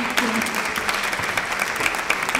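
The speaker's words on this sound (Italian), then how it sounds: "ancora un applauso meritatissimo a tutti quanti" A hall of listeners applauds at a gala concert of opera competition finalists. The clapping is thick and continuous with a few sharper claps standing out, and a faint voice sits under the sound.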